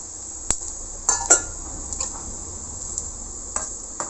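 Cumin, mustard seeds and asafoetida tempering in hot oil for a kichdi rasam give a steady high sizzle, broken by a few sharp pops and crackles scattered through the few seconds.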